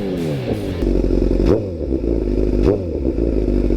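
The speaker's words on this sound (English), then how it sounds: "Give you guys a couple revs here." A 2019 Chevrolet Silverado Z71 LTZ with a 304 stainless steel exhaust revs twice, each blip rising sharply over a deep, steady idle rumble, heard close and loud with no talking.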